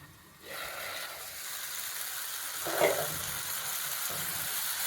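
Onion and tomato cook in a covered pan for a coconut-milk chicken dish, giving a steady soft sizzle that starts after a brief quiet moment, with one slightly louder stir or clatter near the middle and no talking.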